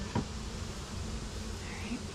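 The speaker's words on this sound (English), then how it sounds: "Look how many bees there are." Honey bees buzzing around an open hive box, a steady close droning hum with a few individual bees passing near, no talk over it.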